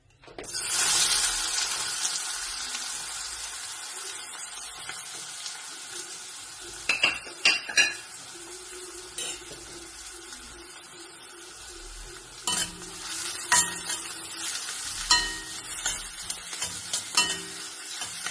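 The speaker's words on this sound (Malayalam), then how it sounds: "ഇതിലേക്ക് ഈ സവാള അരിഞ്ഞത് ഇട്ട് കൊടുക്കാം. സവാള മൂത്ത് വരട്ടെ." Chopped onion frying in oil for a green peas curry, a loud hiss as it hits the pan settling into a steady sizzle, with occasional stirring clanks and scrapes and no talking.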